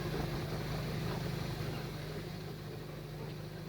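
A 3-inch scale Savage miniature steam road engine running at a parade of miniature steam vehicles, a steady low chuffing rumble under broad hiss, fairly close and continuous.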